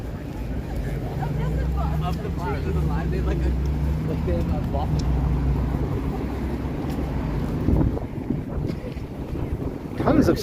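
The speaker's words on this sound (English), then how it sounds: "it's sunny here too, but windy" Steady, gusty wind rumbling and buffeting the microphone outdoors, loud and continuous throughout.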